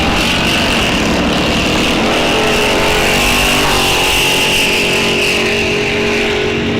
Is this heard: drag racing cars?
yes